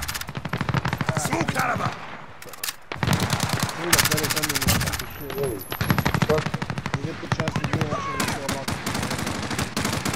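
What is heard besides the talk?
gunfire in a video game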